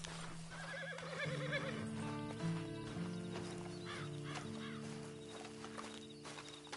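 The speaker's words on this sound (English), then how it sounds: "Then you better get on this horse." A horse neighs and whinnies in the video game Red Dead Redemption 2 over steady background tones, with hoof clops mixed in and a few fowl-like calls.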